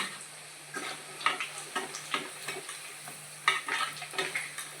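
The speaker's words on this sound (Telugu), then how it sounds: "చికెన్ పకోడీ అనేది వేగిందండి తీసేద్దాం" Chicken pakodi fries in hot oil with a bright, crackling sizzle, punctuated by a rhythmic series of stirring or scraping strokes close by, with no talk.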